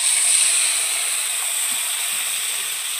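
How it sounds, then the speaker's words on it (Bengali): Marinated chicken pieces going into hot oil for a chicken biryani, giving a steady, loud, bright sizzle that holds evenly from start to finish with no talk over it. "এবার আমি ম্যারিনেট করা মাংসটা দিয়ে দেবো।"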